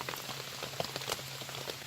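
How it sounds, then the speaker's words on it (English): Outdoor overnight rain falls on surfaces, a faint, steady pattering with scattered sharper drops ticking irregularly over a soft background wash. "it has rained here all night"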